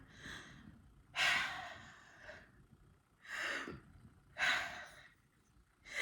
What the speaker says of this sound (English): Okay, let me just calm down. Deep breath.